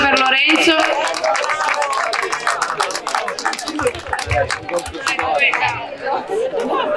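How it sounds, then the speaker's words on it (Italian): A crowd at a vintage car race commemoration event in Lombardore claps and applauds Lorenzo amid lively chatter and overlapping voices. "Un applauso anche per Lorenzo."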